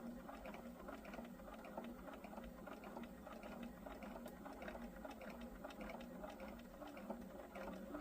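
A sewing machine runs steadily while stitching a quilt seam on an Old Glory flag wallhanging made from a Jolly Bar, its even mechanical whir continuous and close throughout with no talk.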